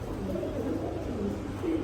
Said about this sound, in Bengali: মোটামুটি সব কবুতরই ডিমে বসা আছে